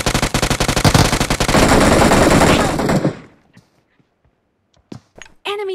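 Rapid automatic gunfire in the PUBG Mobile video game, a loud dense burst of shots lasting about three seconds, then a near silence broken by a few isolated sharp shots and thumps.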